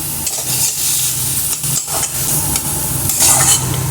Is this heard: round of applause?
no